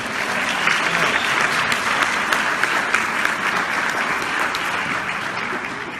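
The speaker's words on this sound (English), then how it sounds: "Let's give them a round of applause" At a community MLK unity event, an audience gives students a round of applause: sustained, dense clapping from many hands, steady in loudness throughout.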